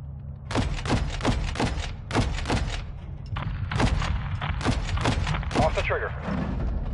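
Rapid bursts of gunfire in Call of Duty: Modern Warfare 2 crack in quick clustered volleys, loud and close, with a steady rumbling bed beneath; speech-like sounds run under parts of the firing.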